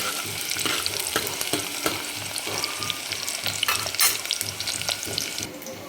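An onion fries in hot oil toward golden brown for a mutton and pumpkin dish, bright continuous sizzling and popping with intermittent spatula scrapes, close and unaccompanied by speech.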